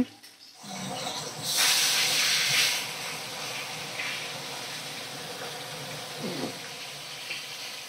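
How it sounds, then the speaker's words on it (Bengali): Vetki fish fries in hot oil with a steady broad hiss, swelling louder for a second or two before settling into a continuous sizzle, with a faint clink of utensils and no talk. "এক সাইডটা ভালো করে ভাজা করে নিয়েছি আর এক সাইডটা ভালো করে ভাজা করে নিচ্ছি"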